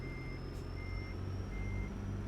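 Steady electronic reversing beeps from a Harley-Davidson International LoneStar truck in American Truck Simulator, a regular repeating tone over a low engine rumble, with no talk.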